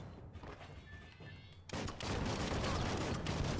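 Rapid gunfire from the video game Biomutant rattles in a dense, loud burst in the second half after a quieter opening, with no talking.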